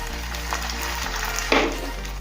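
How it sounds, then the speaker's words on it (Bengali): An egg-dipped bread slice hits hot oil on a tawa and starts frying with a steady close sizzle, a brief louder crackle bursting up midway. "এখন তেলের মধ্যে বা তাওয়ার মধ্যে দিয়ে দেব।"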